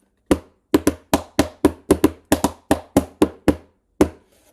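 A spoon taps a cardboard box in a steady run of about a dozen crisp, close strikes at an even pace, with a slight pause before the last hit. There is no talking.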